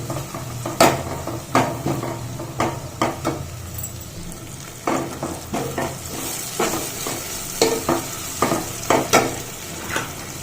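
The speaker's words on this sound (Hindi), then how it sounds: "टमाटर को देकी किसी समय फ्राए करी" Chopped tomatoes frying in a pan for paneer dum biryani, a steady loud sizzle with repeated sharp scrapes and clinks of a spoon stirring against the pan throughout.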